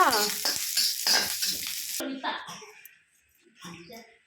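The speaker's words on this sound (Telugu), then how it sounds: "ఒక 10 పచ్చిమిరపకాయలు తీసుకొని మధ్యలోకి విడిచేసి వేయించుకుంటున్నామండి" Slit green chillies crackle and sizzle in hot oil, a bright frying hiss for the first couple of seconds that then fades to a quieter simmer while a voice talks over it.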